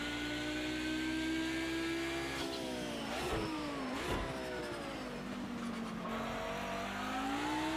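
An Audi 90 Quattro IMSA GTO race car in Project CARS 2 revs hard and accelerates, the engine note climbing, dropping on gear changes and climbing again, loud and continuous throughout with no talk.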